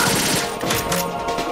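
Rapid automatic AK rifle fire in Metal Gear Solid 2, a loud dense burst of shots that runs continuously through the whole clip.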